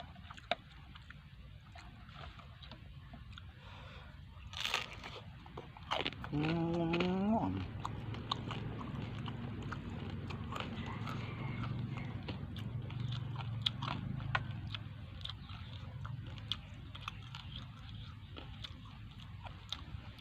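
Crispy roasted pork face skin being bitten and chewed outdoors, a meal eaten with spicy jaew dipping sauce; close, crunchy bites come in short bursts, with a louder cluster of crunches in the middle and quieter chewing afterward.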